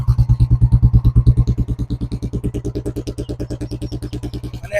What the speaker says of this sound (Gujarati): તમને સ્લોમાં ફાયરિંગ સંભળાવી દો ગાડીનું